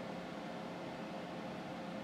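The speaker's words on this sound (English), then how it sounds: "You can probably hear the fan running in the background." The fan of a heat pump water heater runs with a steady, even whooshing hum, constant and moderately close with no other sounds.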